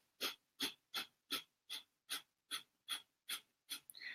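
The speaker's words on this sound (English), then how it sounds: "we breathe chaotically through the nose. And it's like the breath of fire" Breath of fire meditation: ten sharp, forceful exhalations through the nose in a steady rhythm, each a short hissing puff, close and fairly quiet, with a rustle at the end.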